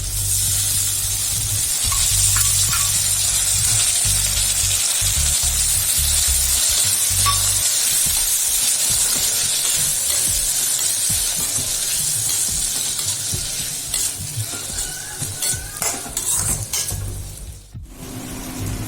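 Chopped tomatoes sizzle loudly in hot oil with shallots and garlic for a spicy shallot kuzhambu, a steady close hiss with stirring scrapes that softens near the end.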